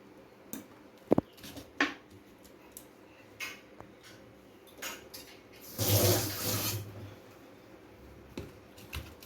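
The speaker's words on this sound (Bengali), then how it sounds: "পরিমাণ মতো জল দিয়ে দিলাম।" Water pours into a pan of spiced Bengali bata fish curry in a brief, fairly quiet gush lasting about a second. Scattered light clinks and taps of kitchenware come before and after it.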